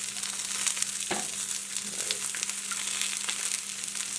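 Onions and zucchini fry in a pan for a frittata, a steady broadband sizzle with one sharp knock near the start and a soft scrape later, close and continuous with no talk.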